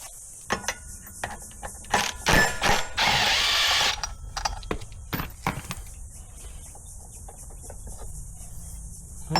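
Close mechanical work on a GX270 clone engine in a buggy, taking off the torque converter: intermittent ratchet clicks, metallic clinks and short tool bursts, one longer whirring burst, mostly quiet between.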